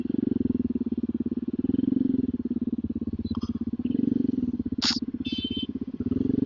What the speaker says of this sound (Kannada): ಸ್ಕೂಟಿ ನೋಡಿದ್ರು ಹೆಂಗ್ ಓಡಿಸ್ತಾಳೆ.